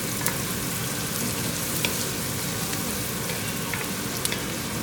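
Onion frying in a pan for carreteiro rice, a steady close crackling sizzle with scattered small pops, running evenly throughout with no talking.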